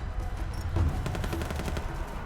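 Rapid bursts of gunfire in the video game Rise of the Tomb Raider, an automatic weapon rattling continuously in a dense, fairly loud stream with a low rumbling background.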